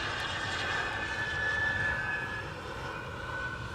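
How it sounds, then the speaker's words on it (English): An Embraer 175 airliner arriving at Amsterdam Schiphol gives off a steady, fairly faint engine roar with a thin whine, heard from a distance and with no voices. "Embraer 175 arriving from Prague"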